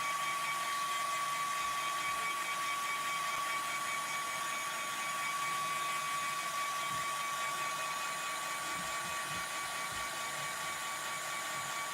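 A hair dryer or heat tool runs steadily and loud throughout, drying the body of a steampunk butterfly craft piece with a constant whooshing drone and no talk.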